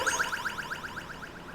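Odd electronic beeping, a quick series of about a dozen evenly spaced warbling chirps rising and falling like a car alarm, steady and moderately loud with nothing else audible.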